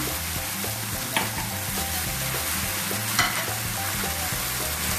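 Minced meat frying with ginger garlic paste for aloo qeema, a steady broadband sizzle in the pan with a couple of brief scraping stir strokes, loud and close, no talk.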